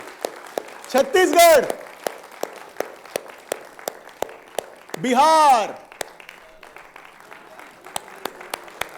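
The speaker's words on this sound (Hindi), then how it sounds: "तालियां थोड़ी जोर से" An audience at a team-building session claps in a sharp, evenly spaced rhythm that runs throughout, while a man calls out over it twice.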